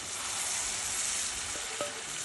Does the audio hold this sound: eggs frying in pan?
yes